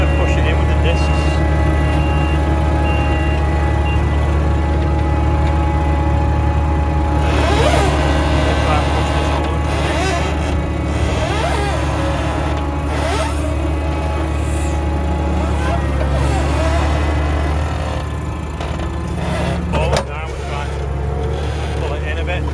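Tractor pulling a set of discs across a rough field to push soil into a hollow, a steady close, loud diesel drone running throughout with some clanking rattles mixed in.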